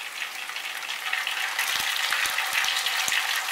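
Ginger-cumin paste sizzling in hot oil with fried potatoes, a steady close frying hiss with a few soft spoon clicks, no voices.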